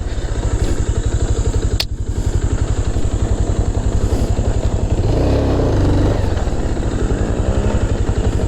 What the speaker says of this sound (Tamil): ஏன்னா இந்த வண்டியோட சவுண்டு வந்து RX 100 சவுண்டு மாதிரியே இருக்கும். இது வந்து சுசுகி மேக்ஸ் 100